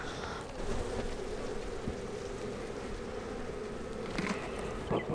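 Honeybees buzz around an open beehive during a swarm-prevention split, a dense, continuous hum close by with occasional louder passes of single bees.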